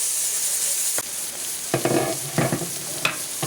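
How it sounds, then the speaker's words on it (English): Lamb brain masala frying in a pan, a steady close sizzle broken by a few scraping stirs of a utensil against the pan. "You can add little salt at this stage. And let it fry."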